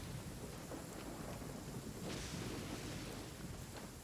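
Rain and thunder in the video game Genshin Impact, a continuous hiss of falling rain with low rolling rumbles underneath, faint and steady throughout.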